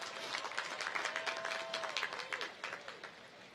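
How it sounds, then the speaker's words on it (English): Audience applause at a spring commencement ceremony: a steady, moderately loud patter of many hands clapping in a large hall for several seconds, tapering slightly toward the end, with a faint voice briefly audible underneath. "Give her a round of applause."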